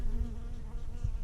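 Honey bees crowd a hive top feeder, giving a steady close insect drone with a low hum underneath and a couple of soft thumps. No one speaks.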